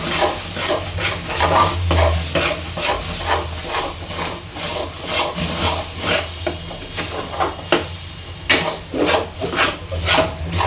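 Ground banana mixture being stirred and fried in a pan, with repeated rhythmic scraping strokes over a continuous sizzle and hiss, close and fairly loud, no talking.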